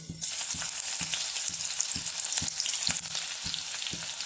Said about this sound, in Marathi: तेल छान तापलेलं आहे त्यात आपण लसूण हिरवी मिरची आणि आल्याची पेस्ट घालून घेऊ